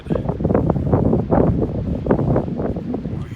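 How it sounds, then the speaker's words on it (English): Gusty wind on the Kungsleden trail in Sweden buffets the microphone in rough, uneven rumbling bursts, loud and close, with no talking. "Over here it's rather windy."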